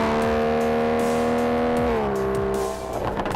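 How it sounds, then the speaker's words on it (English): An Aston Martin DBS sports car revs through its quad exhaust, a loud, close, steady engine tone that holds, then drops in pitch and breaks into a rougher burble near the end. "Aston Martin refer to the sound that comes out of the quad exhaust system on this car as a characterful noise"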